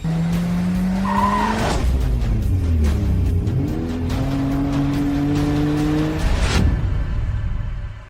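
Car stunt-driven tilted up on two wheels, tires squealing and skidding in long loud screeches over a roaring, revving engine, steady and close throughout with no talk.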